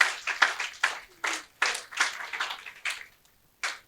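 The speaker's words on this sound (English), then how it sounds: "can we get a round of applause?" A small audience at a talk event claps in a short, scattered round of applause, with about a dozen distinct, fairly close hand claps that thin out toward the end.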